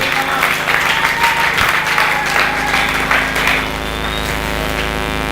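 A church congregation claps in a dense, loud wave of applause over a steady sustained musical tone, then the clapping fades out, leaving the tone.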